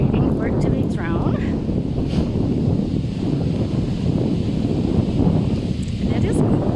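Cold, wet outdoor wind buffets the microphone in a steady, loud low rumble throughout while dogs play fetch nearby, with a person talking over it.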